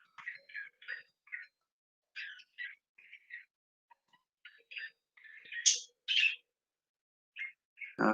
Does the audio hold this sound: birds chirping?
yes